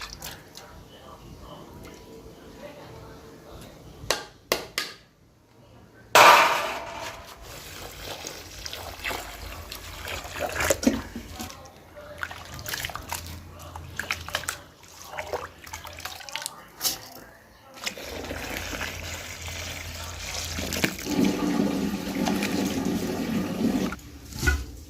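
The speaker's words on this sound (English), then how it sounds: "So washing helps remove all this soil, the one you can't remove when you're sorting." Sesame seeds being washed in water to remove soil, with steady splashing and running-water sounds close by, swelling louder toward the end.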